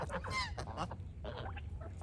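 Several domestic geese honk in quick nasal bursts, fairly close, with a few overlapping calls over a low background hum.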